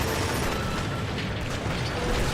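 Grenade blasts in the shooter game Killzone 2, a dense, continuous roar of loud booming explosions filling the whole clip with no pauses.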